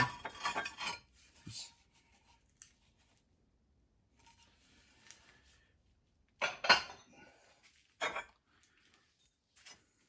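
Ceramic plates, including a 20 cm plate, clink and knock together in a few separate bursts as they are taken out of a kiln, with quiet gaps between the handling sounds.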